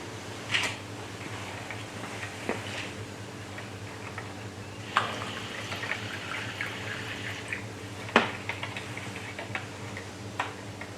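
Hot water poured into a container and stirred while making a crystal-growing solution, heard as faint clinks and light taps with a few sharper spoon knocks against the container over steady low background hum; no speech.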